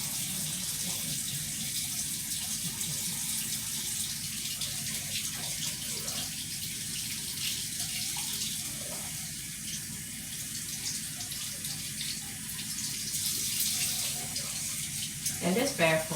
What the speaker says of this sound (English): I'm gonna put it in my sink with some hot water.